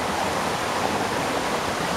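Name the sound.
flowing creek water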